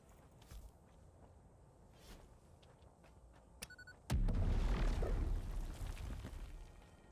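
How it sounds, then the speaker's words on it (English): Explosions in space in the video game Satisfactory: after a few faint taps and clicks, a sudden deep boom bursts out and rumbles loudly for several seconds before slowly easing off. "Don't mind the crazy space explosions you might be hearing."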